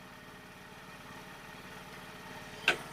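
A Honda Activa scooter engine idles steadily during RPM adjustment, a low continuous mid-pitched hum with a brief sharper click near the end, no voices.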